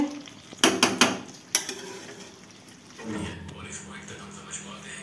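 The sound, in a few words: mutton kosha being stirred and cooked in pot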